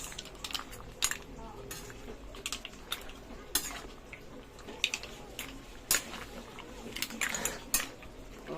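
Vegetables stirred with a metal spoon in a cooking pot of ginataang tahong with assorted greens, giving repeated light scraping clinks in an irregular rhythm, soft and close, with a voice talking in between.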